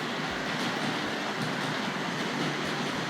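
A Tri-ang Hornby Continental tank locomotive model train runs with a steady, dense whirring rumble from its motor and wheels, close and continuous, with faint rhythmic clicks over the track and no voices.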